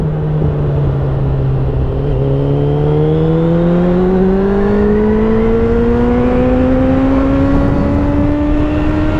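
A Suzuki GSX-F 600 motorcycle engine revs up through a smooth, climbing whine, loud and close, its pitch rising steadily with no talk over it.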